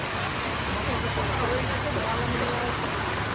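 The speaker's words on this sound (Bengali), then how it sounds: "দেখুন প্রচণ্ড হারে বৃষ্টি হচ্ছে আর বাড়িতে যেতে পারছি না" Heavy rain pours steadily outdoors beside a pond, making a dense, unbroken hiss that stays constant and fairly loud throughout.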